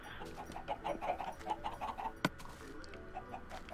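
Chickens cluck in the video game Minecraft, a quick series of soft, evenly spaced blips with a single sharp click midway.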